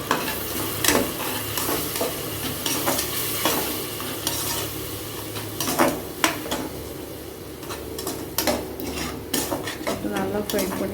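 Tomato paste fries in a pan with turmeric, garam masala and chilli powder for mushroom biryani, a steady sizzle under repeated scraping and clinking as the spoon stirs it.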